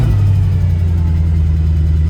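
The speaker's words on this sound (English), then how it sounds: "let's fire up the car and see if it works" A Mercedes C-Class W204 car engine running steadily just after starting, a loud, close, continuous low rumble with no voices.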